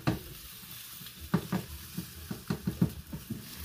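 Food sizzling in a hot pan while being stirred, with scrapes and knocks of the utensil against the pan, a steady fry hiss underneath and no voices.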